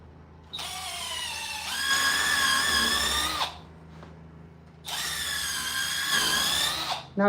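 A power drill whines loudly in two long bursts as it pre-drills wood for a carrera table, its pitch rising as it bites, with a short pause between.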